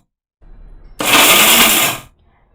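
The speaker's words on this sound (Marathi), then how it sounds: "आता मी ही वाटून घेते मिक्सरमध्ये" A mixer grinder runs one short, loud burst of about a second, coarsely grinding dry chutney made from roasted chana dal, with faint handling noise before and after.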